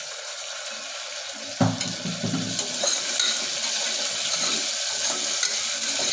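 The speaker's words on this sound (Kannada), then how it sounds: "ಟೊಮೊಟೊ ಮೆತ್ತಗಾಗೋವರೆಗೂ ನಾವು ಇದನ್ನ ಫ್ರೈ ಮಾಡ್ಕೋಬೇಕು" Chopped tomatoes frying in a pan for plain kushka give a continuous bright hiss. A sharp clatter of ingredients or utensil lands early, then the sizzle settles into a steady, close, even frying noise.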